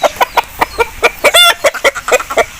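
An Aseel rooster clucks in a close, loud series of short rhythmic calls, about a dozen sharp pulses in quick succession with one slightly longer, drawn-out note in the middle.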